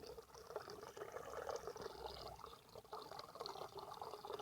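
Tap water runs steadily into a cooking pot, readied for boiling saltfish in a Jamaican kitchen, a continuous close splashing fill with a slight rise in pitch as the pot fills.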